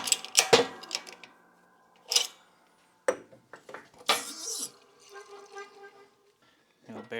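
A new ball bearing is pressed into an ATV engine crankcase from a Polaris Sportsman 570, giving several sharp metallic clinks and taps separated by quiet gaps, close and clear.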